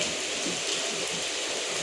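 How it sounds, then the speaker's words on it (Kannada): Steady heavy rain driven by wind, a dense continuous hiss with no pauses and no voices. "ಗಾಳಿ ಸಮೇತ ಮಳೆ ಐತೆ"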